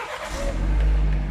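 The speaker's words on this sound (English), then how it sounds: "Start the car." A 2019-present BMW 330i G20 engine starting and catching, a deep low rumble swelling quickly into a steady idle within about a second, close and fairly loud with no talk.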